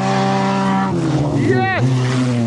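A Honda races a Ford Tempo through a cornfield with loud revving engines whose pitch climbs and drops, then a sharp descending whine and tire squeal as the cars push hard, all close by.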